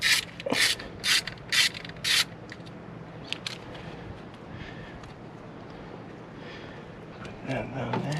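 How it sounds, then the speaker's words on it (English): A ratchet works 8mm bolts loose on a 2008 BMW 328xi door panel, with four sharp clicking bursts up close before quieter handling noise and a voice talking. "Now I gotta take off those 8mm bolts."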